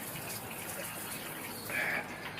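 Water pours from a watering can in a steady, soft gush for a couple of seconds, slightly louder near the end, with no talking over it.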